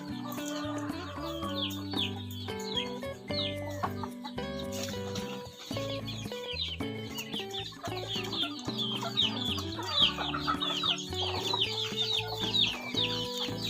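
Free-range five-month-old chickens foraging near a canal: repeated clucks and chirpy calls from several birds at close range, with an occasional distant rooster crow, continuous and without talk.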